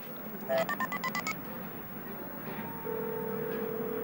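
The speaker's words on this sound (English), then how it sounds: "I'm gonna make a phone call." A telephone is dialed with a quick run of about eight short electronic keypad tones, close and clear, followed by a steady low line tone.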